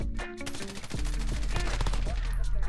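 Rapid automatic gunfire from an XRK M4 rifle in Call of Duty, dense loud bursts of shots filling the whole stretch, close and punchy.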